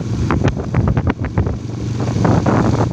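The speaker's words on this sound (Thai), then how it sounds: "ลมแห้งนะครับอากาศหนาว อากาศหนาว มากๆเลยนะครับ" Cold, dry wind buffets the microphone outdoors on a rural path toward the fields, a steady rumbling roar with gusty crackles throughout.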